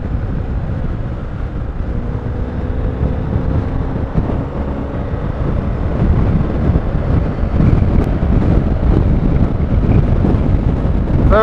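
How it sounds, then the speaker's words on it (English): Strong gusts buffet the microphone on a breezy motorcycle adventure ride, a loud, continuous low rumble that swells and thickens in the second half, with no voices. "Very breezy up here, but great fun."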